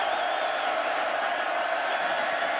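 Loud, steady roar of a big stadium crowd at Jack Trice Stadium during an Iowa State versus Texas college football game in 2017, building on a third down, sustained and dense throughout.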